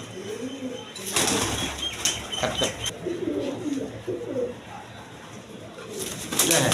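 A Lotan tumbler pigeon rolling on the ground, with loud bursts of wing flapping and low coos between them, close and busy.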